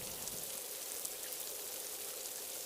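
Steady rain falling as a story sound effect, a continuous soft hiss of drops on surfaces, even and unbroken, with no voices.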